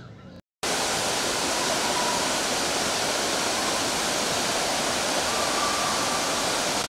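Loud, continuous roaring rush of the Lakhaniya Dari waterfall near Mirzapur, India, broad and steady throughout after a brief silent gap at the start.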